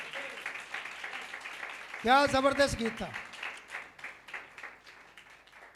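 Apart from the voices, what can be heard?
audience applause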